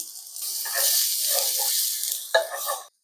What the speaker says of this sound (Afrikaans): Ek gaan begin deur my varkvet te smelt.